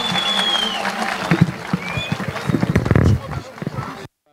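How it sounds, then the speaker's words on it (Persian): An audience at the 2018 Rokh festival in Gonabad, Iran, breaks into loud, dense applause. A voice carries over the clapping, which fades out near the end. "جناب قلی‌پور رو تشویق بفرمایید یه بار دیگه"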